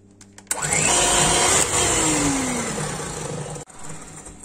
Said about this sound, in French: Dans un saladier, on va blanchir les œufs avec le sucre.